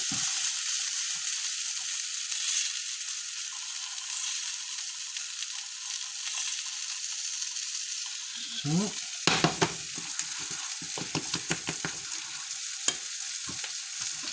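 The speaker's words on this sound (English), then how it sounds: "when you're frying like this, you also put taste to the fat" Fish cakes sizzle and crackle in hot fat, a steady hiss with sharper pops and spatters bursting in toward the end.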